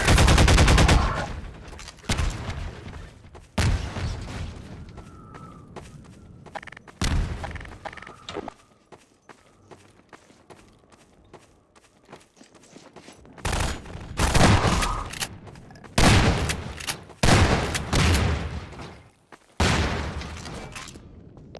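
Bursts of rapid gunfire from a newly picked-up weapon in a video game, loud and close, firing in several separate volleys with quieter gaps between them.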